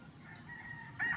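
A stag rooster, a young gamecock with a white streamer, crows briefly and faintly at close range, a short harsh call rising near the end over a quiet background.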